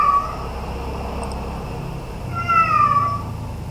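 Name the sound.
cat meowing loudly in the background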